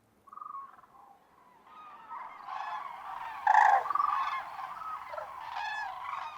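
A group of wintering cranes calls from the shallows of a misty lagoon in Spain, honking trumpet-like cries overlapping and swelling, loudest midway, at a moderate distance with no other sound.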